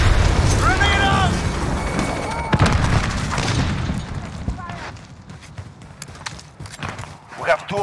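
In a Call of Duty Modern Warfare multiplayer match, booming explosions and gunfire go off amid battle noise, with one heavy blast early on before the action thins out. Game voices call out over the combat.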